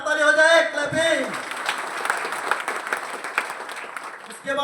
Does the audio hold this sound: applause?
yes